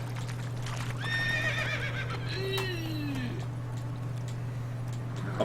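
A horse in The Witcher 3 neighs with a loud, wavering whinny and a falling snort, over a steady game ambience hum and soft hoof clip-clops.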